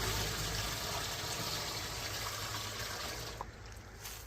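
Water pours steadily into a concrete mixer drum, a continuous rushing splash that stays broad and even for several seconds before easing slightly, with no talking.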